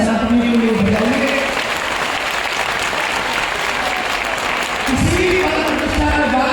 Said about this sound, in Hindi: एक बार जोरदार ताली सनातनी के लिए बजाइए